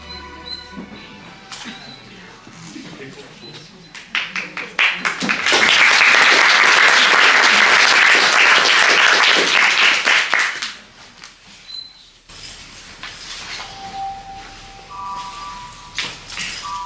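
Theatre audience bursts into loud, sustained applause and clapping before a stage performance of The Glass Menagerie, swelling for several seconds and then fading out to quieter room sounds.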